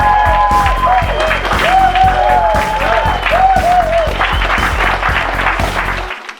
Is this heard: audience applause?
yes